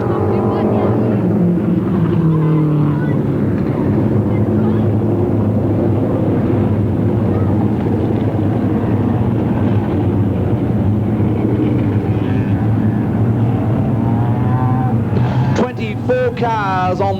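A pack of 1986 speedcars droning around a dirt circuit, a dense, loud, continuous engine roar with shifting pitches; a commentator's voice runs over the top.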